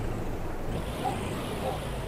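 Kenworth K100 truck engine idling in Euro Truck Simulator 2, heard from outside the cab as a faint, steady low drone with a broad, even hiss.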